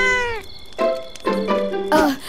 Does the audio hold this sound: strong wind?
no